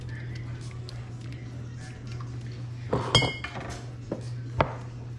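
One and a half sticks of butter are stirred in a pan over low heat, with a soft background hum, then a few bright metallic clinks and scrapes of a utensil against the pan near the end.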